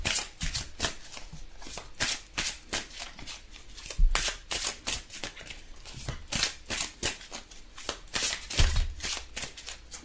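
Tarot cards are shuffled by hand in quick repeated riffling bursts, close and fairly loud, with a couple of soft thumps as cards drop onto the table.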